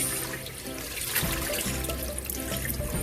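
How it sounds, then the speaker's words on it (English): Kale leaves being rinsed under running water in a kitchen, a continuous splashing, trickling stream with a brief surge of louder water partway through, close by and with no talking. "Just double filtering, double rinse"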